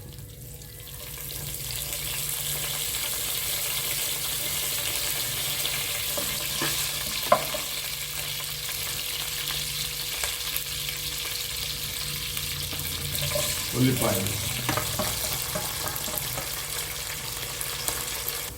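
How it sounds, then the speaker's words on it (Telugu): Cumin and mustard seeds sizzle in hot oil in a kadai for a Telugu-style amaranth leaf, broad bean and tomato curry, giving a steady frying hiss with a few sharper crackles and spoon clinks partway through. "నూనె వేడెక్కగానే జీలకర్ర ఆవాలు వేసుకోండి ఫ్రెండ్స్"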